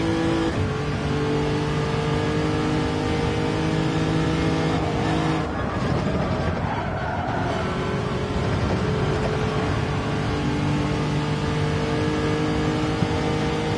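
Steady engine drone of a car in a racing video game at the Yamigawa reverse circuit, with a low rumble as if running on a flat tire, continuous and loud throughout with slight shifts in pitch.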